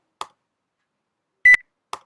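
Electronic beep sound effect placed on a button press: a short soft click, then a single sharp clear beep, then another click, all isolated against silence.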